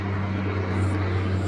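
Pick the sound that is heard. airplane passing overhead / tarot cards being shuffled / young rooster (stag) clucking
airplane passing overhead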